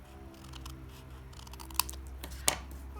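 Scissors trim thin designer series paper for Christmas tags, making two sharp, close snips over a quiet background hum.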